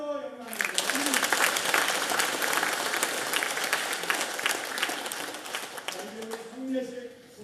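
Congregation applauding during a Sunday church service at a Presbyterian church after new members are received, a sustained burst of many hands clapping, with a voice speaking briefly at the start and again as the clapping tapers off.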